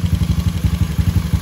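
A carbureted Honda Beat motorcycle engine bored to 130cc with standard valves, built for daily riding, runs close by in a steady, rapid stream of low, rhythmic pulses with no voices.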